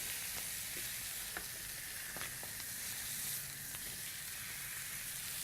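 A tuna steak sears in a hot pan with a continuous, fairly quiet sizzle and a few small pops and clicks scattered through it, with no talking.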